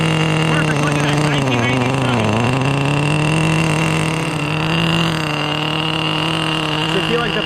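A Traxxas T-Maxx 2.5 nitro RC truck engine runs steadily with a buzzing, droning tone that shifts pitch slightly as it drives, continuous and fairly loud throughout, with people talking now and then over it.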